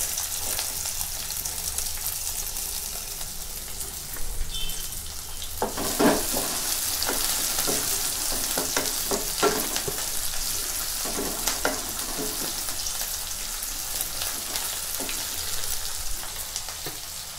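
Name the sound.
onions frying in oil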